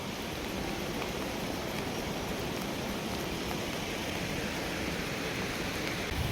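Steady rain falls on a forest trail under tree canopy on the Pindari Glacier trek between Khati and Dwali, a dense, even hiss with no pauses.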